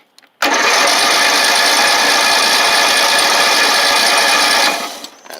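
A tractor engine is cranked for a cold start off a jump pack, a loud steady whirring drone running about four seconds without catching, then cutting off.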